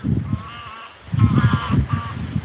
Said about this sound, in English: A geese trying to fly in formation.